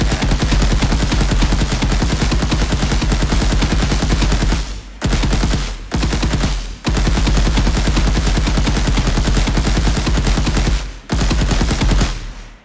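Rapid automatic gunfire from a third-person shooter game built in Unreal Engine, loud continuous bursts separated by a few brief pauses.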